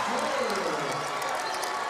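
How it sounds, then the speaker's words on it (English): A basketball arena crowd of Mariners fans cheers and applauds in a steady, dense wash of noise heard at a distance beneath a commentator's voice. "Crowd is in it. They're feeling it. The Mariner faithful are feeling it."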